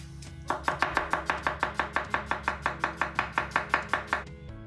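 A knife thinly slicing onions on a cutting board, about twenty quick, evenly spaced chops in a steady rhythm, close and crisp with no talk.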